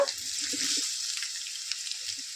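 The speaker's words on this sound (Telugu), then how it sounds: "మనం ఎక్కువ అవసరం లేదండి వేపేది, కొంచెం లైట్గా వేపేస్తే సరిపోతుంది" Carrots lightly frying in a pan give a steady, fairly quiet sizzle, with a few soft stirring knocks near the start. No one speaks.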